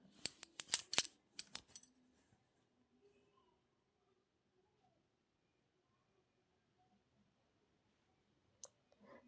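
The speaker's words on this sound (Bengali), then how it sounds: "এরপর অস্ত্রের এই এক্সট্রা পার্টগুলো কাঁচির সাহায্যে কেটে নেব" Scissors cut through blouse fabric in a quick, close cluster of crisp snips over the first two seconds, followed by near silence and one faint click near the end.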